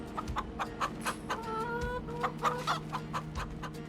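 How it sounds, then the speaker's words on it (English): Free-range chickens in Farming Simulator 25 cluck repeatedly in quick, rhythmic bursts with a drawn-out squawk midway, moderately close over a steady ambient hum. "Chickens."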